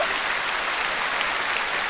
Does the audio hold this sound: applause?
yes